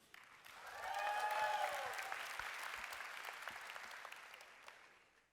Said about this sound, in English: let's give a big cheer for Esther Marshall from Unilever with her program, Stand Tall